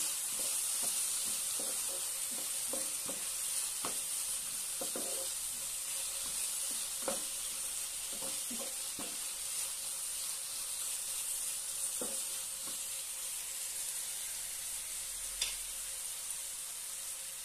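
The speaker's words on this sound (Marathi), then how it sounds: "अर्धा चमच धनेपूड आणि चवीनुसार मीठ। छानपैकी एकत्र करून घेऊया।" Potato bhurji seasoned with coriander powder and salt is mixed in a pan, with a low background sizzle broken by scattered light taps and scrapes of the spoon, quiet and close with no voices.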